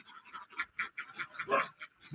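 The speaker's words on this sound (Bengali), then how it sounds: "অনেকগুলো হাঁস," Many ducks crowd a duck farm beside a pond in Laos, quacking in a rapid, overlapping chorus of short calls, close and fairly loud.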